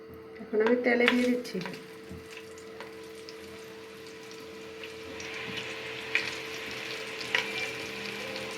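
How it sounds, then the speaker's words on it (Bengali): Chicken goes into hot oil and erupts in a loud burst of sizzling, which settles into a steady, quieter frying hiss with occasional crackles and stirring. Someone speaks briefly in the background. "এখন আমি তেলে দিয়ে দিচ্ছি।"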